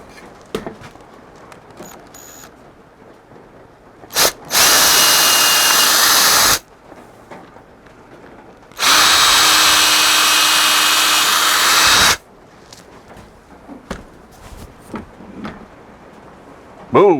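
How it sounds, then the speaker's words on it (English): A power drill bores pilot holes into a top plate for a mobile stand built from a broken office chair base. It makes two loud, steady whirring bursts of a few seconds each, separated by quiet workshop handling noises. "I have marked a couple of places on here to drill pilot holes"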